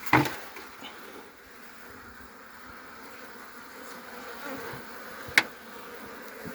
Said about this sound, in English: But there are bees this other side.